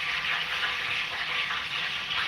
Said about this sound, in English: I love the sound of french fries being fried on the...